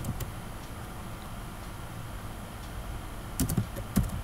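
Typing on a computer keyboard over a steady background hiss, a few faint keystrokes early on, then clearer clusters of clicks near the end.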